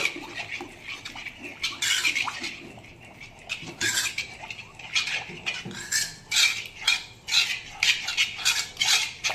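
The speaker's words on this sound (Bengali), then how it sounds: "টক দইটা এর সাথে ভালো করে মিশিয়ে নেব" Chicken mixed by hand with whisked sour yogurt in a metal bowl for tandoori marinade, wet squelching and scraping sounds with clinks against the bowl, coming in irregular close bursts.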